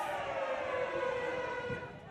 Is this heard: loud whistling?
no